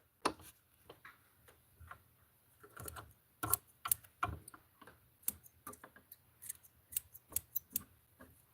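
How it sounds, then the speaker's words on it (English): Sharp scissor snips trimming a feather on a fishing fly, a quiet irregular run of close, crisp clicks that comes in small bursts, with no talking. "So I'm cutting this fly down to the bare."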